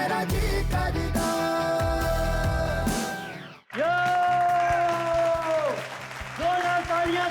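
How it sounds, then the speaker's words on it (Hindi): Audience applause following a dance performance to a Punjabi song, heard as a crowd clapping under and between loud music with a brief pause, a host's voice also talking over it. "जोरदार तालियां दोस्तों"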